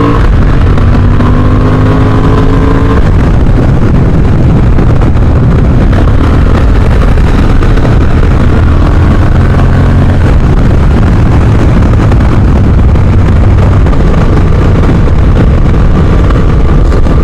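A Honda Hornet CB 750 motorcycle is ridden in sport mode, its engine droning loudly and continuously with shifting pitch, buffeted by heavy wind noise throughout and no talking.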